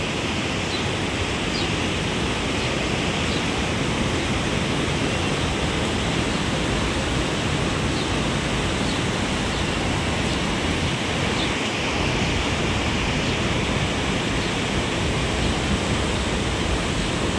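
Swollen river in full flood, its water rushing in a loud, unbroken roar that stays steady throughout with no pauses or talk.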